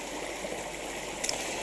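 A small creek in New Zealand flows with a steady, close rushing and trickling of water, constant in level with a brief splashier burble, and no voices.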